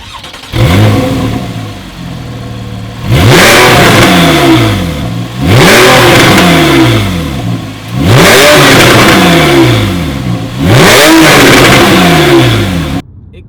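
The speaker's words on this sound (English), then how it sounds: "this is genuinely the nicest sounding car that I've ever reviewed, ever driven, and quite frankly ever come across." A Porsche 911 Carrera GTS with sports exhaust revved hard five times in succession, each loud rising roar falling back with crackles before the next, close and alone without talk.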